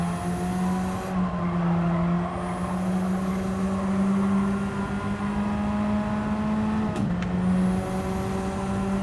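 A race car engine in the Gran Turismo 7 racing game holds a loud, steady high drone while sliding through corners. It has a brief dip and shift partway through, then carries on, with no voices.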